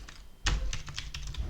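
Someone types a command on a computer keyboard in a run of close, crisp key clicks. After a quiet start the clicks come quickly and unevenly, with no talking.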